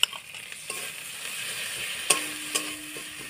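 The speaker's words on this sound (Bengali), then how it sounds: "এবার এটাকে ভালো করে কষিয়ে নেবে।" Spice paste with dried chilli paste frying in a pan while being stirred, a soft steady sizzle with a few sharp scraping clinks near the end; no talk.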